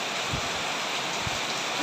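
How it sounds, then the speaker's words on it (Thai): Heavy rain falls steadily during a flood at the start of the cold season, a dense, even hiss of downpour filling the whole moment with no voices. "ก็มาติดฝนซะแล้ว"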